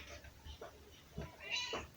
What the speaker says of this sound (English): that's Annabelle meowing in the background